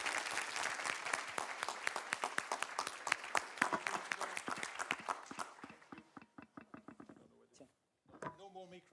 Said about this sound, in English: a big applause now to all of speakers, participants, and organizers.